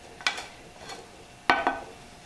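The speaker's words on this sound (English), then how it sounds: "then you just kind of stir it and look at it" A spoon scraping and stirring through risotto in a pot, two pairs of short, soft scrapes separated by a pause, close and quiet with no voices.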